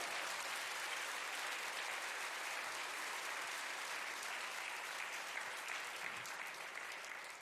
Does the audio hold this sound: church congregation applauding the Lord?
yes